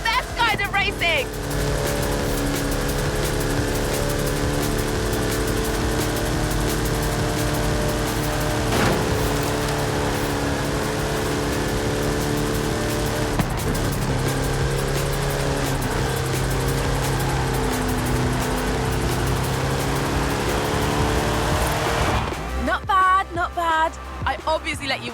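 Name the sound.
Hot Wheels car engine racing, from the video game Forza Horizon 5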